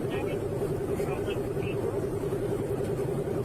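Fast car engine during a police chase, a steady loud droning motor at high speed with constant road rumble, someone talking over it.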